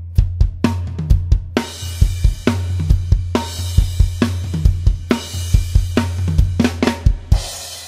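Full drum kit plays the last four bars of a song, driving kick, snare and tom hits under repeated crash cymbal washes, with a busier pattern near the end, loud and close with no talk.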